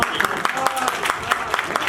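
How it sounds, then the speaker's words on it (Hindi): Audience applause at a Hindi-language community gathering honouring a woman for distributing food donations; brief scattered clapping mixed with a voice speaking over it. "तालियां एक बार बहन"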